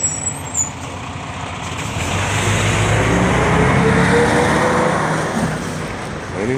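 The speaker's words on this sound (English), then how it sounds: "See, that car didn't even stop." A heavy road vehicle passes close by on a street, a broad engine and tyre roar swelling from about two seconds and holding loud before easing slightly, with no talk.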